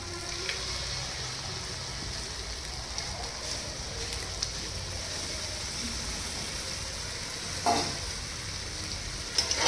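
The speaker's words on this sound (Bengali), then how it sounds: "এবার বন্ধুরা দইটা কিন্তু আমি দিয়ে দিচ্ছি।" Yogurt sizzling and being stirred in a pan while cooking doi katla, a Bengali fish curry; a steady, faint frying hiss with soft scraping and one brief louder clatter near the end.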